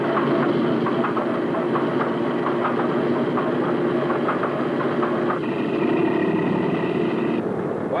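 Engine of a Boeing B-17 bomber on the ground, a loud, steady, throbbing drone that runs without a break, its tone shifting partway through as another note joins in.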